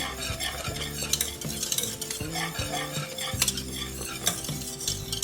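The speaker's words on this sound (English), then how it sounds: "So let me mix this in first. Give that a little stir." A spice mixture being stirred into mac and cheese in a pot: a spoon scrapes and clinks against metal in repeated strokes over a soft sizzle, close and moderately loud, with no talk.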